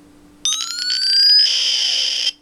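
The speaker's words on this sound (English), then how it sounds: "when you tilt your hand uh, backwards, like so, it detects that and does the following blast sound" A repulsor blast effect from a tilt-triggered hand prop: after a low hum, a bright electronic whine sweeps upward with a rapid pulsing texture, then settles into a steady hiss-like tone and cuts off sharply.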